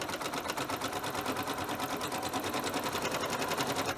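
A sewing machine runs steadily while test-sewing a fancy decorative stitch on burlap, a fast even mechanical needle rhythm, close and continuous, with no talking.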